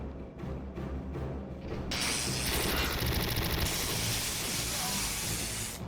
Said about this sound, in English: my trusting MG42 made short work of these jumpy freaks